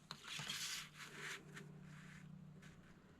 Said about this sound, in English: So let me pull out my trimmer and I'm going to make 2 5-inch cuts.